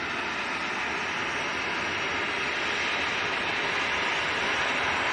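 A Jet2 Boeing 737-300 airliner at Leeds Bradford Airport gives a steady, broad engine roar that stays even and fairly loud from start to finish, with no talk over it.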